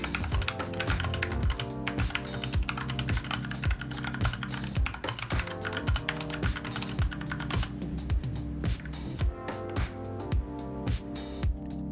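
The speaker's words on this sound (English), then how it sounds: "Here's a quick sound test of the GMMK with speed copper switches." Rapid, continuous keystrokes on a Glorious GMMK Compact mechanical keyboard with Speed Copper switches, sharp closely spaced clicks over a steady tonal backing and no talking.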